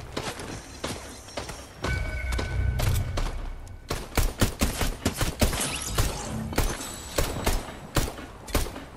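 Pistol gunfire in a split-screen video game, a rapid uneven string of sharp close shots and thumps over a brief low rumble, with no talking.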